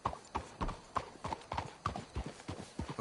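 Horse hooves clip-clop in a steady walking rhythm within Red Dead Redemption 2, a string of even, close, moderately soft thuds with no speech over them.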